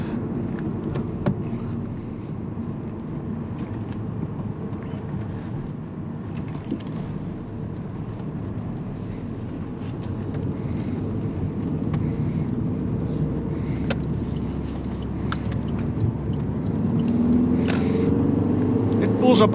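Steady low engine and road drone from an Alfa Romeo Mito being driven, heard from inside the car as a constant rumble with a slight swell near the end.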